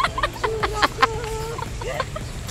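Chicken-like clucking from a bird under a tree outdoors, a run of short, close, moderately loud clucks with a few drawn-out calls, with no talk over it.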